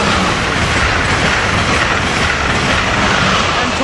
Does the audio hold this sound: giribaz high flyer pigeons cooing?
no